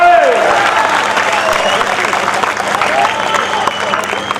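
Audience clapping at a Hindi kavi sammelan poetry recital: a crowd's continuous applause at moderate loudness, with a voice speaking over it near the start.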